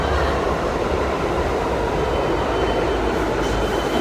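New York subway train at a station, a loud continuous rumble of wheels and cars rolling close by, steady throughout.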